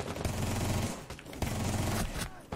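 Rapid gunfire rattles in Rainbow Six Siege, loud bursts of automatic shots in quick succession with short gaps between volleys.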